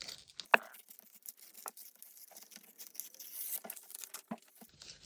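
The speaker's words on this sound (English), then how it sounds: "I'm going to take a piece of this beautiful calendar and put it on this side. So again, I'm just going to tear it." A piece of a paper calendar torn by hand, giving close, soft ripping and crinkling with scattered small rustles and a sharper snap near the start, all fairly quiet.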